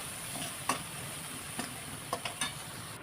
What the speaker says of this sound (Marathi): आता हे वाटून तेलामध्ये परतेपर्यंत